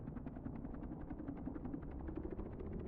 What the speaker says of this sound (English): get back into the pilot seat, turn off the brake, and rev the engine to around 540 RPM